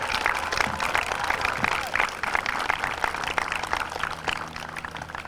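An outdoor crowd at a girls' softball league opening day in Poughkeepsie gives a steady round of applause, with dense clapping at moderate distance and some voices underneath.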